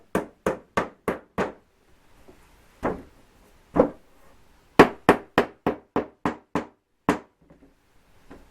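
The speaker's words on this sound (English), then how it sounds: "And then I hammer the nails down" Nails being hammered into a wooden chalkboard frame, in crisp close strikes: a quick run of five, two separate blows, then another fast burst of about seven, and one last hit.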